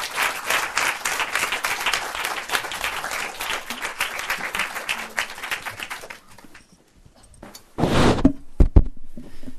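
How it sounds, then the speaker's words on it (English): A Frankfurt audience welcomes filmmaker Agnès Varda on stage with loud, dense applause lasting about six seconds, then it stops abruptly and brief bursts of rustle and handling noise follow. "Another applause for Agnès Varda."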